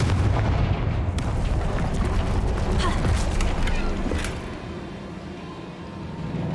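In Hogwarts Legacy, the Confringo fire spell sets off booming explosions: a burst of heavy blasts and crackling debris that fades to a lower rumble, with a voice speaking over it.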